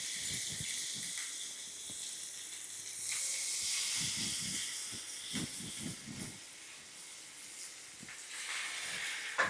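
Mackerel fish fry in hot oil on a flat tawa, sizzling and hissing faintly and steadily, with a louder burst of spitting in the middle and soft clatters from cooking.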